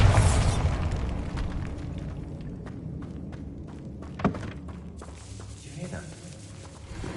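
A Bombarda spell explosion in Hogwarts Legacy booms loud at the very start, then decays into a rumbling tail, with scattered small thuds and game ambience inside a tomb.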